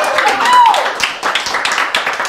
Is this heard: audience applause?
yes